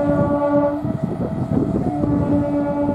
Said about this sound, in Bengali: বন্ধুরা, আপনারা দেখতে পাচ্ছেন ট্রেন কিন্তু একবার কার্ভ নিয়ে পুনরায় আরেকবার কার্ভ নিচ্ছে